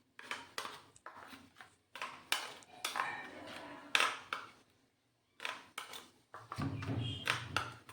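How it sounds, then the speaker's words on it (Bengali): A metal spoon mixes fresh coriander chutney in a bowl, clinking and scraping against the sides in irregular bursts of taps with short pauses, close and fairly crisp. "এটা চামচ দিয়ে মাখাচ্ছি"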